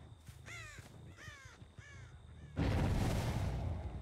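Crow cawing in a video game, three loud, harsh caws in a steady rhythm, followed by a sudden loud, broad rushing burst that fills the rest of the clip.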